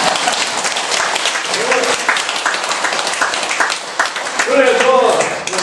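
A church audience at a health seminar applauds steadily throughout, dense clapping filling the clip, with a voice speaking faintly underneath toward the end.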